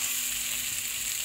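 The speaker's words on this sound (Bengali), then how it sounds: "মশলাটা কষাতে কষাতে মশলা থেকে তেল ছেড়ে দিয়েছে" Spice paste of onion and garlic fries in oil for an egg omelette curry, giving a steady, even sizzle and crackle that stays close and continuous through the short moment.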